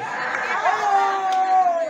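A crowd at a Halloween 2023 beach hotel party at Hotel Tahiti raises a loud, sustained collective shout, voices blending into a rising cheer that holds steady for a couple of seconds.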